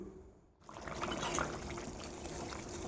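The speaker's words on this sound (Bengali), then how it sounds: "এবার দিয়ে দিলাম জল।" Water is poured into a cooking pan holding a fish and bean-potato curry; after a quiet moment, a steady close trickling splash runs continuously to the end.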